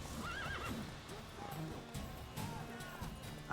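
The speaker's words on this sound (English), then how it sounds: "Why is his horse named Roach?" A horse neighs in the video game Witcher 3, a couple of wavering whinnies over clip-clopping hooves and game ambience, with some speech-like sound mixed in.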